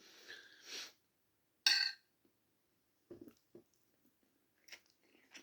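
Eating egg with chicken ramen and broth gives a few close, separate bites and chewing sounds between stretches of near silence, with soft breathing and no talking.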